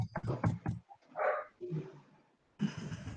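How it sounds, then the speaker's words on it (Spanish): A dog barks in the background of an indoor room, with a quick burst of yaps at the start and another near the end, and a person's voice is heard in between. "está ladre y ladre"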